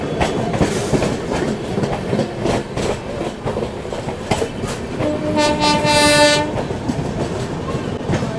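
Two express trains, the Farakka Express and the Ajmer Express, run side by side, with loud continuous rumble and clickety-clack throughout and a sustained horn blast sounding near the middle.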